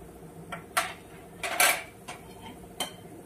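A spoon scrapes and clinks against a pan while turmeric is stirred into a spice masala for a bitter gourd dish, giving a few sharp metallic taps and scrapes, close and fairly quiet.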